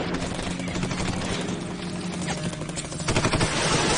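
Rapid bursts of automatic gunfire in a battle scene fill the clip without pause, with louder, sharper volleys crackling near the end.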